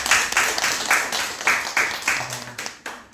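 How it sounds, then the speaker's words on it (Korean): A church congregation breaks into applause during a worship service, a steady wash of clapping that swells and fades in repeated waves over about three seconds with no voices on top. "우리 다 같이 박수로 환영하고 축복하겠습니다."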